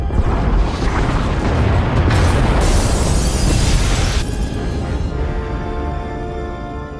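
A huge explosion destroys escape pod bays in Star Wars: The Old Republic, a loud, rumbling blast with a layered roar of debris that goes on for several seconds and then slowly fades, with no voices.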